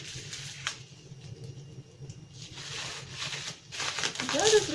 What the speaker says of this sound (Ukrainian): зараз будемо далі розпаковувати